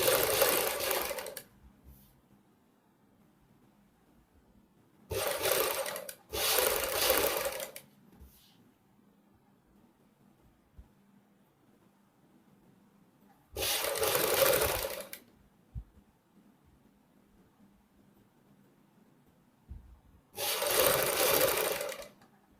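A sewing machine stitches the neck strip of a suit in four quick bursts, each a loud rapid whirring run separated by quiet pauses, with no talk during the stitching.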